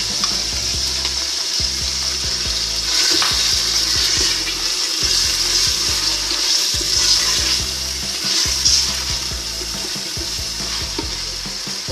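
Onion, garlic and tomato with chicken fry steadily in a pot for a Tunisian chicken soup, a loud continuous sizzle with repeated stirring scrapes and clatter throughout.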